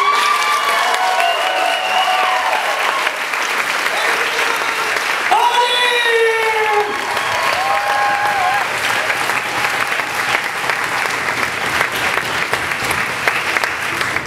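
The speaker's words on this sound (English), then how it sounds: "Good applause" An audience applauds after a poem at a live poetry slam, steady dense clapping filling the room throughout, with some cheering and brief voices rising over it partway through.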